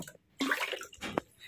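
Water poured into a cooking pot for Maggi noodles, two short splashing bursts of running water separated by brief pauses, close and fairly quiet.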